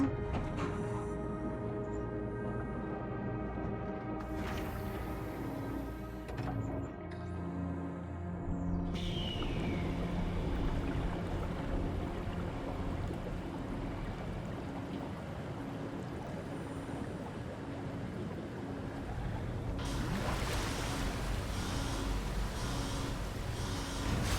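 Water being pumped out in an underwater facility in the video game SOMA, a steady gurgling, rushing flow with mechanical hum and tonal drones, continuous throughout, with occasional hissing bursts rising above it.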